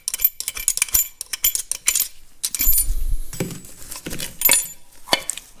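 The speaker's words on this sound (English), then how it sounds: "All right, so now we can take our washer out of there." A metal washer is pulled from the governor of a Caterpillar D2 diesel engine during an overhaul, giving a string of close, bright metallic clinks and jingles with small knocks and handling noise between them.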